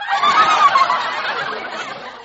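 Geese honking as a radio play sound effect, a loud burst of overlapping nasal honks up close that gradually tapers off, with no one speaking.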